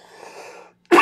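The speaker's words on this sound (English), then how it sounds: "Made me cough on that one." A single sharp, explosive cough at the very end, close and loud after a brief faint hum and a moment of near silence.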